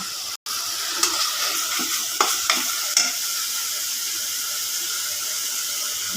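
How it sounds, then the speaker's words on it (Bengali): Spice paste with garam masala, cumin and coriander fries and is stirred in a pan for chicken bhuna, giving a continuous loud sizzle with a few scraping stirs near the start. "এখন মশলাটা কষাচ্ছি।"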